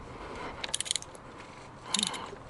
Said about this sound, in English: Now to unscrew it, you put this cap straight over and unscrew.